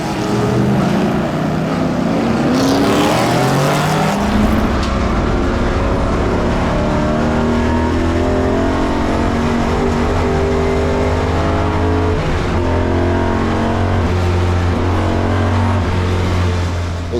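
First-generation Ford Mustang race cars in a Ken Miles Cup race, loud V8 engines roaring past and revving hard, one car accelerating and changing gear up close over a continuous background of engine noise.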